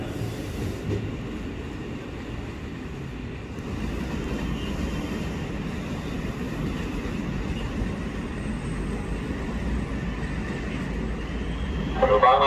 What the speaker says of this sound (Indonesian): Jalur 11 dipersiapkan masuk kembali komuterline tujuan akhir stasiun Jakarta Kota